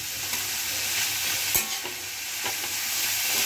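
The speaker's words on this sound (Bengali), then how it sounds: "মূলোটা দেওয়ার পরে মূলোটা একটু নেড়ে চেড়ে ভেজে নিতে হবে।" Grated radish is stirred and fried in a pan, with a soft continuous sizzle and a few light scraping stirs, quiet and close, with no talking.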